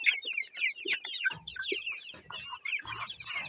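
Several chickens clucking close by, overlapping short clucks and chirpy calls in an irregular stream.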